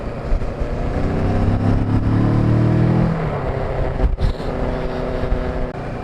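Motorcycle being ridden with a helmet-mounted recorder, engine droning steadily with a rising tone for a few seconds, then settling into a lower cruise under wind noise, no talk.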